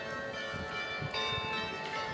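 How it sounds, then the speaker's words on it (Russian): Church bells ring out over the streets of Gdańsk, Poland, sustained overlapping metallic tones from some distance, with a faint rumble of town ambience beneath and no talking. "Как звучат колокола."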